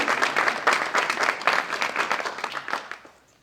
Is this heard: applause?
yes